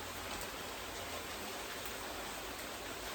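Steady, dense hiss of rain falls continuously outside, heard from indoors in a student room, even and unbroken, with no voices.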